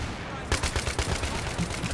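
Sustained rapid gunfire from the first-person shooter Battlefield 3, a steady rattling stream of shots at close range continuing without pause, with no speech.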